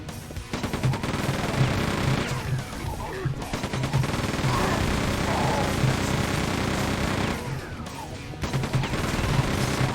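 Rapid automatic weapon fire from a chain gun or hyper blaster in the video game Quake II Remaster, delivered as long continuous bursts of closely spaced shots with brief pauses between them, loud and near, with no talk over it.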